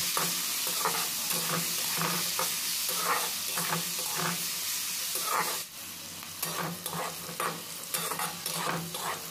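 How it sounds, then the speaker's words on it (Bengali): Green beans fry in a kadai with turmeric powder while being stirred, a loud continuous sizzle with repeated scraping strokes of the spatula, one brief dip midway, and no talking. "এইভাবে নাড়াচাড়া করে কড়াইটা ভালো করে ভেজে নেব"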